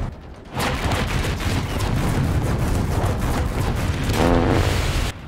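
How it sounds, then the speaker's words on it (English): Gunfire in a shooter game, a dense sustained barrage of shots and booms running almost continuously for several seconds, loud and close, with no voices. "I got shot right in the backside."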